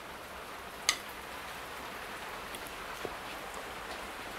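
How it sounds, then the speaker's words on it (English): Steady, soft rain hiss fills the background, with one brief sharp click near the start. "It's pouring out there"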